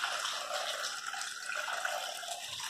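Hot water is poured into a cooking pot of rice for chicken soup, a steady bright splashing stream lasting throughout at close range, with no talk.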